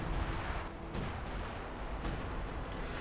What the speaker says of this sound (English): Oh, it looks like a sector artillery.